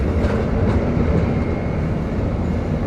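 A passenger night train running from Washington to Miami, with a steady, loud rumble of wheels and carriage noise filling the whole stretch, no voices.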